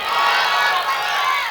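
A large crowd at a religious gathering roars back in unison to the Naara-e-Takbeer chant, a loud sustained mass shout lasting about a second and a half.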